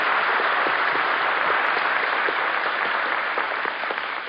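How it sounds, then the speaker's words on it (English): Old radio quiz show studio audience applauds a child actress contestant, a steady, dense patter of clapping heard through narrow, dated broadcast sound, alone and without talk. "I think we ought to give a nice round of applause to our little actress"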